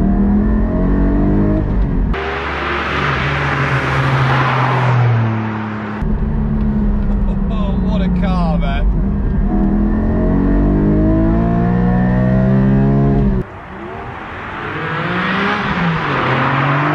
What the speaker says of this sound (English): you put all of that power through the rear wheels on this Cayman GT4, does it come alive?